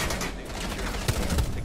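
A quick burst of gunfire in Rainbow Six Siege, with rapid, loud, close shots in a short cluster over dense game noise. Faint voices can be heard in the background.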